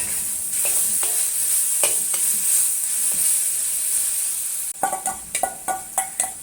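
Bok choy stems and leaves stir-fry in a wok over high heat with a little added water, producing a loud continuous hiss with a string of sharp spatula scrapes and clanks, clustered densely toward the end.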